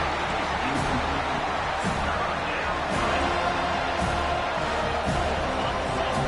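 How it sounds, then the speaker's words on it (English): A football stadium crowd roars steadily behind the defense on third down, a dense, continuous wall of noise with a commentator talking over it. "Decibels rising as the crowd gets behind this defense on third down."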